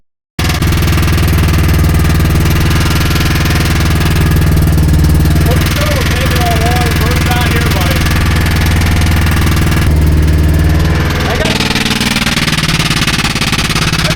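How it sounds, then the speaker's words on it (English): Diesel amphibious ATV engine that has just thrown a rod runs with a loud, close, continuous rumbling drone and a rough knocking undertone throughout. "The motor. He's thrown a rod."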